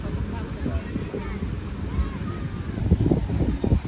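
Rough surf surging onto a beach at Pantai Indah Boso as a storm builds, the waves running loud and continuous with heavy wind buffeting the microphone, while voices talk over the roar.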